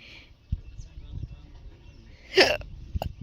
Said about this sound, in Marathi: सकाळ सकाळी उचकी लागल्या